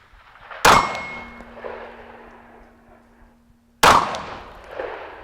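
Glock 26 Gen 4 pistol fired with iron sights at a shooting range: two sharp, loud reports about three seconds apart, each ringing out and decaying into reverberation.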